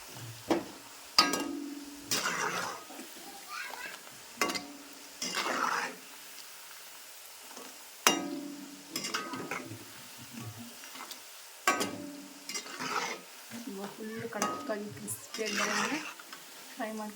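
Semolina snacks fry in hot oil with a soft sizzle under a stirring spoon and scraping pan sounds. Someone talks over most of it.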